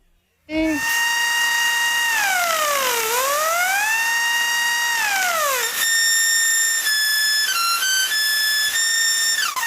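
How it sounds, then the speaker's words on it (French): A loud homemade industrial siren spun by a drill wails, its pitch sliding down, then rising and holding, then stepping between tones in a long continuous howl after a short start. "Ça ne rappelle pas une sirène?"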